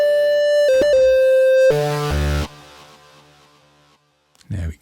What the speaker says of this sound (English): There we go, we get that nice delay at the end of it.